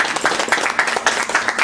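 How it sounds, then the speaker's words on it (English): Audience clapping in a brief round of applause for a show's co-host, a short, loud burst of many hands with a quick, uneven rhythm. "Give a round of applause."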